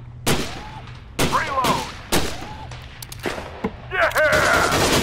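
Sharp pistol shots from Gun Club VR crack out about five times at uneven intervals, loud and close, with short echoing tails and brief voices between the shots.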